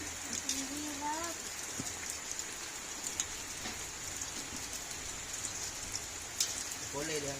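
Heavy rain falls at night as a steady hiss with scattered sharper drop hits on nearby surfaces. Faint voices come through briefly over the rain.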